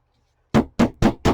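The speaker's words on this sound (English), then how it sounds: "I always just take a little big hammer" A hammer taps a vintage paper doll folio four times in quick, evenly spaced strikes: sharp, close knocks that break a silent start.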